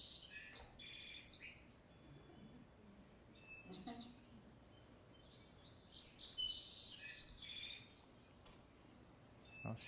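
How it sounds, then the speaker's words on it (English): Song sparrow singing outdoors in a backyard: several bright, buzzy phrases and trills spread across the stretch, moderately close, with faint background noise and occasional other chirps. "the reason I like the song sparrow is they're relatively common. They sing out in the open usually."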